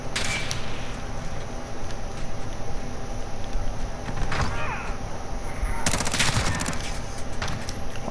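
A shotgun blast in Call of Duty: Modern Warfare during a Search and Destroy round lands as one loud, close burst late in a busy stretch of game noise, with a few sharper clicks and thuds scattered earlier.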